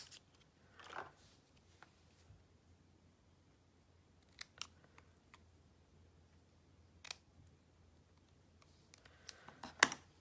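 Scissors cut paper for a handmade card, leaving a handful of crisp, scattered snips and clicks at close range, quiet and spread over several seconds.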